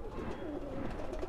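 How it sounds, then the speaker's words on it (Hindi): Soft, low pigeon cooing murmurs close by in short warbling phrases, muffled and steady against a faint background hum. "आनंद खंडेलवार भाई के पास उड़ता है ये कबूतर, लंबे पल्ले का बड़ी बगल वाला कबूतर।"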